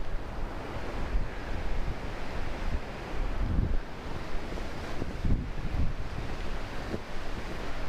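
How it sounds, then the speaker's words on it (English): Strong wind roars steadily across a bridge near Split Rock Lighthouse State Park on Lake Superior in bitter cold, with crashing surf mixed into the constant loud, buffeting gusts. "So that wind on that bridge"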